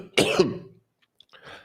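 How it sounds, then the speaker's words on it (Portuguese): A man clears his throat and coughs once, a short harsh burst close to the microphone, followed by silence and a faint softer rasp. "Desculpa, eu vou ter que tossir um pouquinho."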